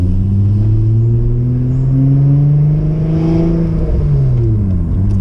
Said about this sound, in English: will give you an idea what like a muffler delete and resonator delete would sound like on the TL